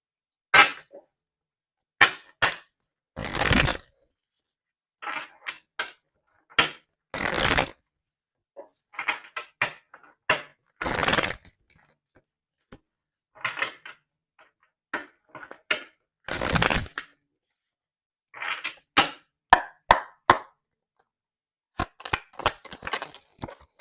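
Tarot cards are shuffled and drawn in a series of short, crisp riffling and flicking bursts separated by silent gaps, close and clear with no talking.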